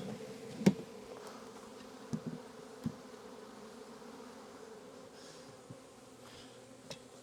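Steady low hum of many honeybees buzzing nearby at a top bar nuc and Langstroth box, with a few faint knocks and clicks scattered through, no talking.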